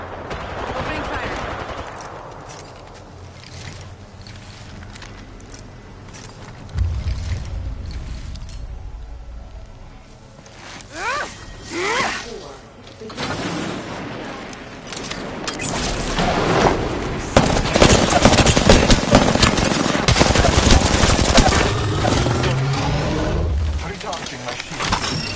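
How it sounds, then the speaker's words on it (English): Gunfire in Apex Legends: long stretches of rapid automatic bursts and sharp cracks, building louder toward the end, mixed with booms and mechanical clatter, and a voice speaking over parts of it. "Target spotted. Opening fire."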